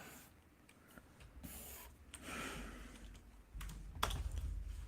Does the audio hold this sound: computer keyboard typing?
yes